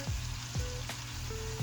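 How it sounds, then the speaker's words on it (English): Eggs fry in a hot cast iron skillet with a steady, close sizzle. A few soft low thumps from the pan break the hiss, and no one speaks. "Now that we have our sizzle, flip them again."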